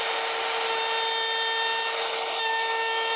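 A router cuts into a wooden project clamped to a worktop, giving a loud, steady high whine with tonal overtones that holds unbroken throughout.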